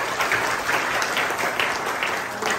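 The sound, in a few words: congregation applauding for the Lord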